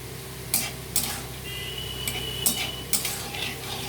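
Whole cumin, bay leaf and chili are stirred in a pan, with a spoon knocking against the metal in irregular taps over a steady low hiss. The sound is close, and no one speaks.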